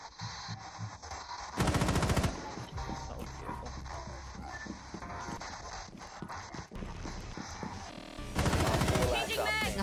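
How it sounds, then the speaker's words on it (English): Sustained automatic fire from a mounted LMG in the tactical shooter Rainbow Six Siege, with dense loud bursts near the start and end and continuous gunfire and game noise between them. "LMG mounted and loaded."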